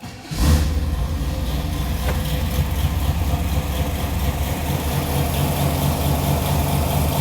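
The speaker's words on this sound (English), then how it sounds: "Let me start it up so you can hear the engine." A 1968 Camaro Rally Sport convertible cranks briefly and fires up, then settles into a smooth, steady idle that rumbles evenly and close by for the rest of the clip.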